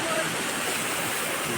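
Bolinao Falls in Pangasinan pours down in a steady, broad rushing roar of falling water, heard fairly close with a faint voice briefly in the mix.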